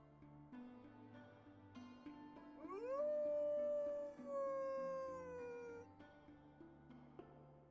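A dog in a video game lets out a long, rising then slowly falling howl, loud and clear for about three seconds over soft game music, with no talking.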